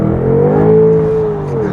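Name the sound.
BMW car engine revving during a manual gear change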